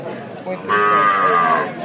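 A Sahiwal heifer at the Birampur cattle market in Dinajpur lets out one loud, close moo of about a second after a brief low lead-in.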